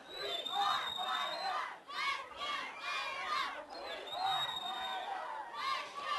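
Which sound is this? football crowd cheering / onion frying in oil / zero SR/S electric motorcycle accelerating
football crowd cheering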